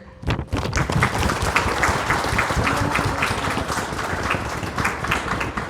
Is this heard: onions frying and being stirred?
no